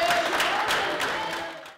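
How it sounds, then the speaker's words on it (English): Under-12 football players clap and cheer for the sponsors who bought their new kit, a burst of crowd applause that fades out near the end. "So I'd like you all to go give them a round of applause and a massive thank you"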